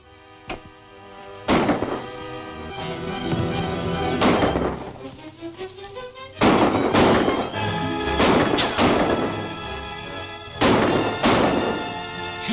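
Gunshots in a 1939 film serial, a rapid volley of sharp, loud reports spread across the scene, some closely spaced, others separated by brief ringing pauses, with a rising tonal sweep midway.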